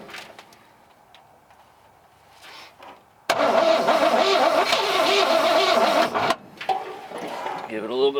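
A fire-damaged Chevrolet C10 pickup engine with a questionable carburetor turns over and catches after a quiet stretch, roaring loudly for about three seconds before dropping back and revving unevenly, with brief talk nearby.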